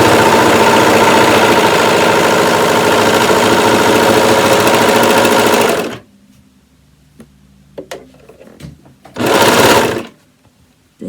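A Brother Lock 1034D serger threaded with four spools runs fast and close for about six seconds, a dense buzzing whir. After a quiet gap with small handling clicks, a second short burst follows. No voices are heard.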